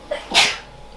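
A single short, sharp sneeze, close by, with a brief intake of breath just before it.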